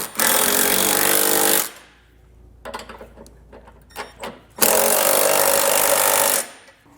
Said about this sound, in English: you can come back with a 19mm or 3/4 inch socket and snug it all down